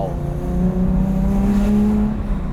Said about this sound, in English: That thing revs like crazy.